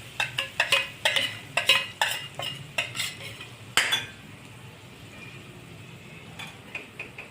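A metal utensil stirs tomato puree sautéing in oil in a pan, giving a series of close clinking scrapes in a loose rhythm for about four seconds, then a softer sizzle with a few faint taps.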